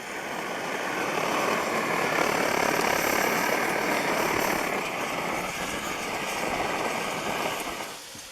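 A small liquid-fuel camping or backpacking stove burning, with a steady close roar that holds for several seconds and drops away near the end, no talk over it.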